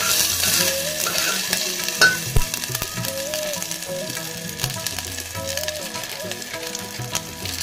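A spoon stirs and scrapes around a metal pressure cooker while food sizzles steadily underneath, with occasional sharper clinks and faint tonal sounds in the background.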